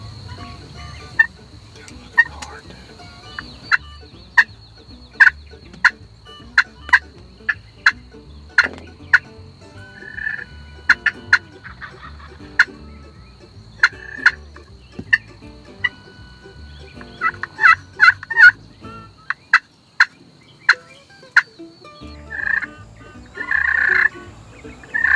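Wild turkeys gobbling repeatedly across an open field during a bow hunt, sharp calls recurring every second or two at moderate distance, with bursts of clucking and calling clustered later on.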